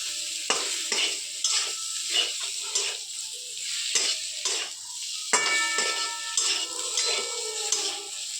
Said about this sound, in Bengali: এবার এটা একটু ভালো করে নাড়াচাড়া করে একটু কষিয়ে নেব।